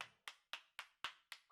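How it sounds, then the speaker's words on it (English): A single person claps slowly in the game Steins;Gate 0, six crisp, evenly spaced claps roughly a quarter second apart, close and alone with no talk. "He started to applaud."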